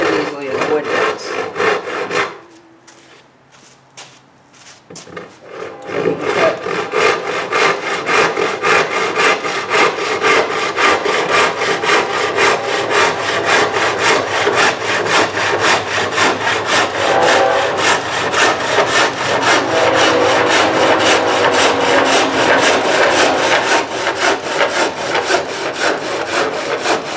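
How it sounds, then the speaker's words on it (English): A handsaw cuts through a Trex composite decking board in fast, steady rasping strokes, close and continuous after a short pause near the start. "that's a lot of hand sawing, and Trex is not exactly an easy product to cut"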